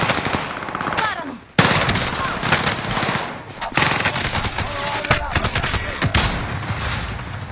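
Rapid automatic gunfire bursts from an online shooter game, dense and loud throughout with repeated volleys and explosions, while a player talks excitedly over the action.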